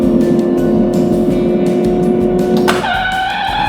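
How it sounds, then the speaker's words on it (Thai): A driving-test simulator holds a steady engine tone while the accelerator stays pressed, then the tone cuts off abruptly and is replaced by a higher, thinner electronic sound. "ทดสอบครั้งที่หนึ่งเหยียบคันเร่งค้างไว้"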